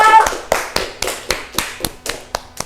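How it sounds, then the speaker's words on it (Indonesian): Classroom applause for a student group: a few rhythmic, evenly spaced claps, close and crisp, repeating about every quarter second with no talking. "Beri tepuk tangan."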